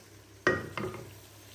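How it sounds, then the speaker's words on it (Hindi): Garlic and ginger are tipped into a hot pan and fry together. A sudden close burst of sizzling is followed by a second stirring push, then a steady hiss that slowly fades. "अब इन तीनों को इकट्ठा फ्राई करूँगी"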